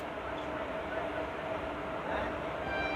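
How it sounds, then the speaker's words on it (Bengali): Howrah–Tatanagar Steel Express (12813) rushing past on a nearby track, a steady loud rumble and rattle of carriages filling the whole clip with no pause. "সামনে থেকে আসছে 12813 হাওড়া টাটানগর স্টিল এক্সপ্রেস"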